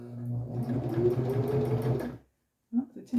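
A sewing machine running a seam in a short continuous burst of rapid stitching, close and fairly quiet, then it stops and after a pause a voice starts speaking.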